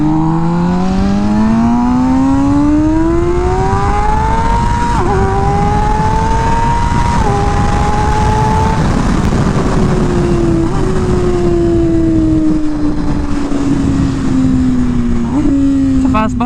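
An MV Agusta Rush motorcycle engine accelerating during a ride, revs climbing steeply through several gear shifts and then easing, loud and close over constant wind noise.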